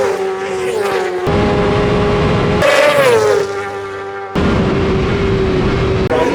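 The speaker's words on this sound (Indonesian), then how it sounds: "raungan suara motor dari jauh terdengar" Racing motorcycles at the Isle of Man TT road races roar past in loud bursts, with high engine whines sweeping down in pitch as each machine passes close by, several passes in quick succession.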